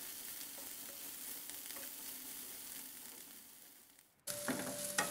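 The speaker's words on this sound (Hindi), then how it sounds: "हम वो पैन में डालेंगे और इसे भी फ्राई होने देंगे" Sliced onions sizzle quietly in a pan with a soft, steady frying hiss that fades briefly, then returns louder and brighter near the end.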